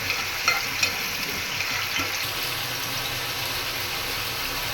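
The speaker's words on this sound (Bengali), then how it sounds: "কড়াইতে তেল দিয়ে দিয়েছি, এটা তেজপাতা আর জিরা ফোড়ন দিয়ে দিলাম।" Bay leaves and cumin seeds sizzle in hot oil in a wok, a steady close hiss of frying with a few small crackles and no talk.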